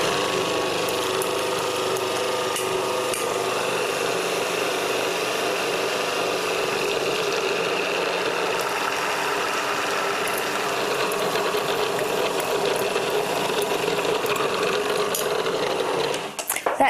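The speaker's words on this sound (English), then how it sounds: "while the motor's running, I'm going to add the egg and sugar in a very slow and steady stream" Food processor motor whirs in a steady, loud mechanical drone while mixing dough as egg and sugar are added, with a rattling grind that holds evenly before cutting off at the end.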